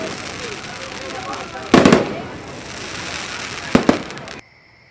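Fireworks burst at a small-town end-of-summer carnival in Boonton, with two sharp crackling booms over steady crowd and background noise, and speech nearby.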